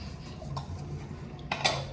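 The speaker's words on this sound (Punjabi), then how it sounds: "ਭਾਂਡੇ ਵੀ ਹੁਣੇ ਮਾਂਜ ਕੇ ਜਾਣੇ ਆਪਾਂ" Dishes and cutlery clink against each other in a kitchen sink during washing, soft faint clatters early on and a sharper, louder rattle of utensils near the end over a low background hum.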